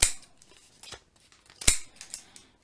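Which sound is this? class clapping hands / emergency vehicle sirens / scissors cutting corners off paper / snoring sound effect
scissors cutting corners off paper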